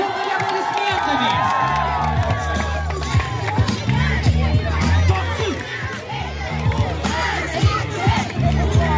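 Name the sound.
crowd applauding and cheering at camp dance event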